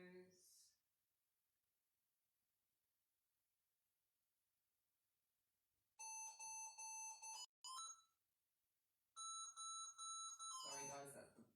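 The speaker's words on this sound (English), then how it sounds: "Sorry guys, that's the phone." A phone rings during a yoga class, its bright electronic ringtone sounding in two separate bursts of repeated tones. A voice speaks briefly at the start, and speech overlaps the end of the second ring.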